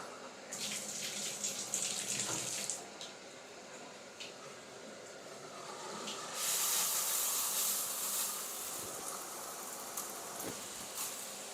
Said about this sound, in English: I can go ahead and squirt around. I can shoot water all over the place.